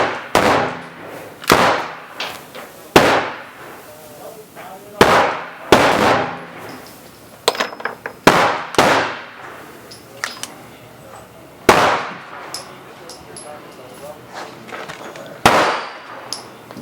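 Gunshots from test-firing reloaded ammunition at an outdoor range ring out as sharp, loud cracks at irregular intervals, roughly a dozen over the span, with faint background rustling between them.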